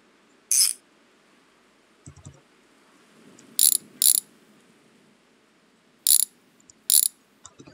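A ratchet wrench clicks in short sharp bursts, about five separate quick runs spread out, close and fairly loud, with faint handling clatter in a garage between them.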